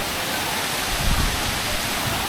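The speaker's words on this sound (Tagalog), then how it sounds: "Lagaslas ng agos ng tubig." Steady broadband rush of a stream flowing over rocks near Sapanca, Türkiye, continuous and fairly close with no voices.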